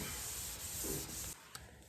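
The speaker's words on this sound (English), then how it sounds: "Finish sanding this up." Close, continuous rubbing of sandpaper by hand across a metal tailgate of a 1974 Ford Bronco in a steady scratchy stroke, ending with a small knock.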